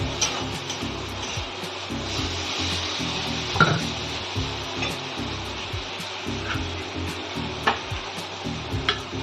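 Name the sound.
water added to frying spices and potatoes, sizzling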